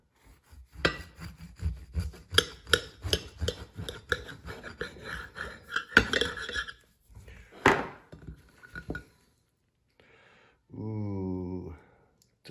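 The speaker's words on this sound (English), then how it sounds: "Let's cut this bad boy open." A knife cuts through a bacon cheeseburger topped with a fried egg and brioche bun, with a rapid series of close scraping, rasping strokes, then a pause and a few scattered clinks.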